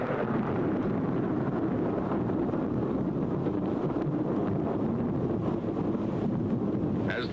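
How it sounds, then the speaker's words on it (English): A roaring atomic bomb blast wave sweeps over soldiers' trenches during a 1950s test, a dense, sustained rumble of wind-like turbulence that holds steady and loud throughout, with no voices. "Seconds later, the blast wave reaches the trenches."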